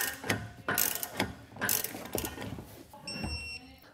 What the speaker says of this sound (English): a large nut for the opposite side that we can come back through, tighten and torque down now